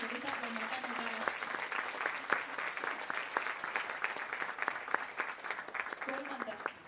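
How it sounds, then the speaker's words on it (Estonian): An audience at a summer children's concert gives a long, steady round of applause for a teacher, with a voice heard briefly at the start and again near the end. "et me võime talle lihtsalt ühe suure aplausi teha ja ta saab oma tänud ära"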